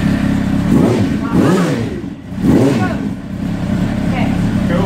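A Suzuki GSX-R750 motorcycle engine revs up and down in repeated swells during an inspection, loud and close, with a voice speaking over it.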